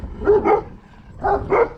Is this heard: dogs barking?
yes